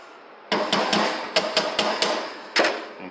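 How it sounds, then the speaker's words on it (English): A mallet pounds a scope mount on an M1A rifle, giving eight sharp, close knocks in quick uneven groups with short pauses between them. "you use a mallet and pound this in a little bit"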